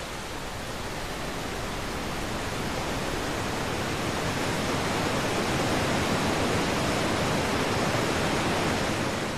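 A steady, dense roar of heavily falling water at the Rhine Falls in Switzerland fills the whole clip, loud and unbroken without any voices.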